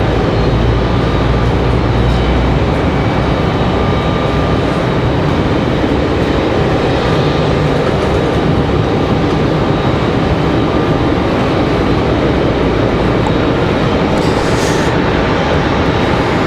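An Embraer E175 regional jet sits out on the runway at Raleigh-Durham International, its engines a sustained, loud, even roar with a steady whine, and no voices over it.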